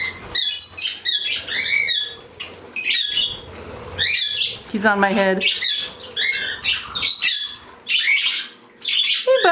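A flock of pet budgies with a young cockatiel chirps, tweets and squawks in busy, overlapping bursts close by, while a person talks over the birds now and then.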